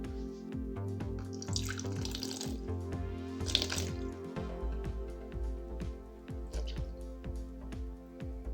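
Tap water runs steadily into a container while measuring out water to make lye for glycerin soap, a continuous splashing stream with small drips and clinks, fairly close, no talking.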